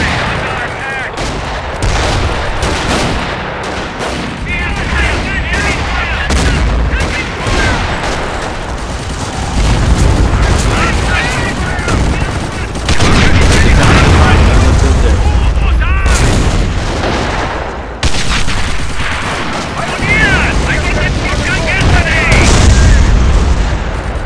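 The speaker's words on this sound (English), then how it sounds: "I am taking fire!" Sustained heavy gunfire and booming blasts rage throughout a Company of Heroes battle with the Imperial Japanese Army, machine-gun bursts and artillery-like thuds loud and close, with voices calling out over the din.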